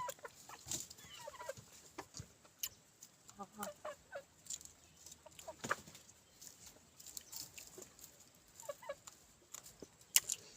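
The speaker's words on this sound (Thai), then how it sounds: "ไก่กวน พี่น้องไก่กวน" Chickens clucking around a rural northeastern Thai setting, with scattered short calls and chatter rising and falling at moderate distance, fairly faint, with no talk over them.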